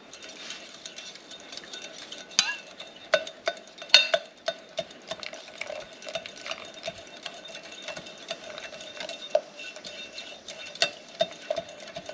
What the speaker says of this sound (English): So I am just scooping from here and putting it into here.